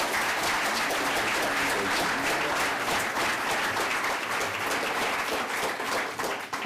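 Audience applause welcomes a speaker to the City Club of Cleveland, a steady, dense wash of many hands clapping at full strength throughout, with no talking, easing only slightly at the very end.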